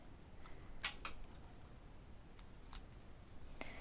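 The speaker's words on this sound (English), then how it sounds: "I'm going to sandwich it so it's pink on both sides, so I'm going to cut it this way." Pink paper is cut with scissors for a card, a few soft snips and clicks spread over a few seconds, close but faint, with no voices.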